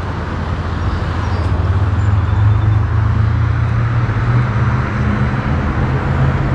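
A 2024 Indian Pursuit motorcycle engine started up, settling into a steady, deep, low rumbling idle that stays fairly loud and close throughout, with no speech.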